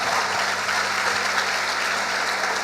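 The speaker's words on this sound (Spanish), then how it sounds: "denle el aplauso al Señor." Congregation applauding during a church sermon: sustained, even clapping from a full room, moderately loud and continuous, with a low steady hum running beneath it.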